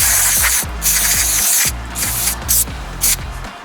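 Aerosol cleaner hisses in several loud bursts onto a lawn mower carburetor float, sharp sprays separated by short pauses, with a low mechanical hum underneath.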